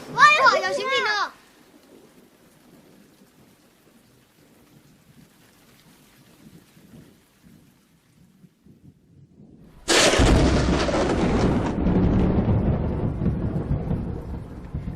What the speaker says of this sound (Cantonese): 出現滂沱大雨，伴隨有雷電或好強嘅下降氣流，形成雷暴。